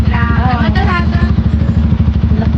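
Motorcycles idle with a steady, throbbing low engine rumble as riders park them on a hillside route near Pokhara heading to Pumdi; voices talk over the running engines throughout.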